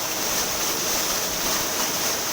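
A paddlewheel aerator churns the water of a vannamei shrimp pond, producing a loud, steady rushing splash close to the microphone with no break or talk.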